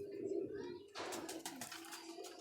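A breeder's highflyer pigeons coo softly in low, rolling calls while someone talks nearby, the cooing faint and partly beneath his voice.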